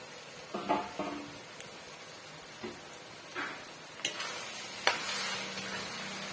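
Potatoes cook in oil in a pan with a soft, low sizzle, broken by scattered scrapes and clinks of a utensil stirring against the metal.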